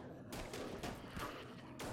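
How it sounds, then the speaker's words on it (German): Explosions and gunfire from the zombie-survival strategy game They Are Billions: a dense, loud stretch of booming blasts and crackling bursts that runs continuously for about two seconds. "Das war nicht schlecht, die Explosion."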